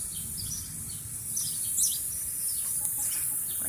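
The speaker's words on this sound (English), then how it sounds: "Here are my chickens." Chickens cluck and chirp softly nearby in a garden over a steady outdoor hiss, with a few brief higher calls scattered through.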